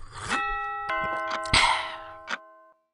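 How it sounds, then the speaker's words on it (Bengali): An electronic doorbell chimes a ringing ding-dong melody of several tones, clear and close indoors, with the notes sustaining before stopping abruptly. "তবে হঠাৎ কলিং বেলটা আবার বেজে উঠল।"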